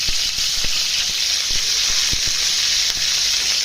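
Chopped tomatoes sizzle in hot oil on an iron tawa for raw mango tomato chutney, a loud continuous frying hiss with a few soft clicks and stirring knocks underneath.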